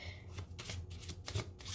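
A deck of playing cards shuffled during a magic trick, giving a steady series of crisp riffling bursts close up with no voices.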